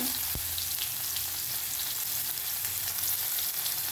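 Cumin, asafoetida, curry leaves and onion sizzle in hot oil for a dal tadka, a steady loud hiss throughout with one sharp clink near the start, no voices.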